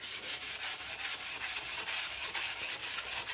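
Sandpaper of 120 grit, a used PSA sheet, rubs back and forth over an old Atkins saw blade in steady, even strokes, about four per second, close and alone with no talk.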